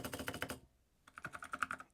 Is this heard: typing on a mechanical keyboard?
yes